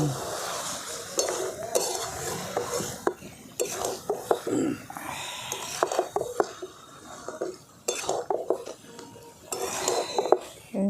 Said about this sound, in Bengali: আলুগুলো দিয়ে আমি খুব ভালো করে মাংসের সঙ্গে মিশিয়ে নিচ্ছি